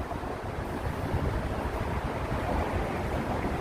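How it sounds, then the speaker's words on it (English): Wind gusts across a microphone in Riverside Park, New York City, on an autumn day, a steady low rumbling buffet with no talking. "it's windy in here"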